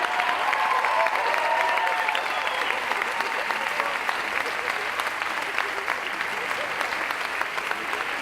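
Steady, loud audience applause at a dance show fills the whole stretch, a dense wash of clapping from a large crowd with no break.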